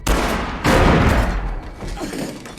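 Gunfire from a film scene in which two men in a remote cabin shoot at each other at once; loud, dense bursts of shots and booms run through the whole stretch, with a heavier burst in the middle.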